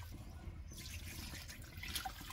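Water is poured into a clay pot holding 1.5 kilograms of pork for gravy, a steady close trickle and splash running throughout, with no talk.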